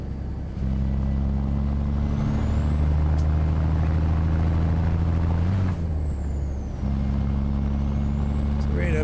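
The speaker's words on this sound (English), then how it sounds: "Ooh, hit the brakes, dude." A truck in American Truck Simulator rumbles steadily with a deep engine drone, and a thin high whine sweeps across it, the engine note dipping briefly as the brakes come on.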